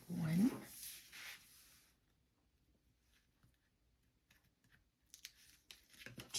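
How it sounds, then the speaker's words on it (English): Strips of tape peeled from a sheet of paper, a short crinkly tearing rip near the start with a speaking voice, then quiet and another faint peeling rustle at the end. "go back and remove the remaining 3 pieces of tape covering"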